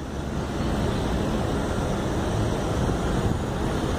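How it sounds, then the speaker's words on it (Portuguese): Steady wind roars across the open Praça Cívica square in central Goiânia, blowing around 32 km per hour as a continuous, broadband rush with no pauses and no voices. "E aí o vento chegando aí a 32 km por hora"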